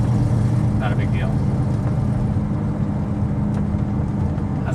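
1970 Ford Mustang fastback engine idling steadily with a slight exhaust header leak, a continuous low rumble heard close up while someone talks over it.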